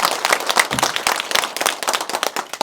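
Applause from an audience at a district council policy forum on reusing idle industrial land, with dense, steady hand clapping that stays loud and even across the clip and no speech over it.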